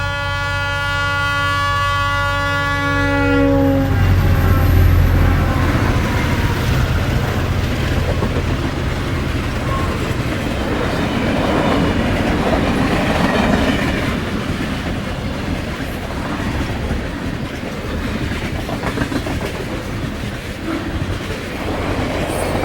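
A Santa Fe eastbound extra train rounds a broad curve through Williamsfield, its loud horn sounding at the start before giving way to a long, steady roar of rolling cars and clattering wheels close by.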